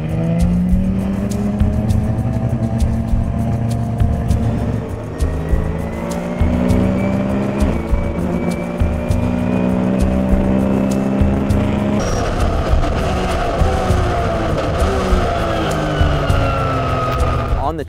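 A Porsche race car driven on a track in low gear, its loud, close engine drone rising and falling in pitch with occasional tire squeal, while voices talk over it throughout.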